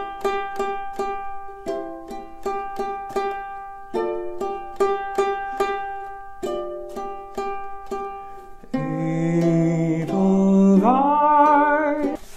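Ukulele fingerpicked melody in C, plucked single notes and chords ringing out in a gentle rhythm, then a fuller sustained strummed passage near the end; close and clear with no voice.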